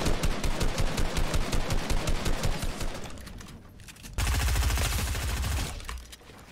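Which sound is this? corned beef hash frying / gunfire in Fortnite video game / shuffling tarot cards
gunfire in Fortnite video game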